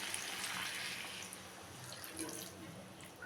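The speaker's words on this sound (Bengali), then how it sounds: "এখন আমি এটার মধ্যে জল দেব, খুব সামান্য করে একটু জল দেব।" A little water, about half a cup, is poured into a pan of cauliflower curry cooking with rice; a steady running splash fills the short moment with no talk.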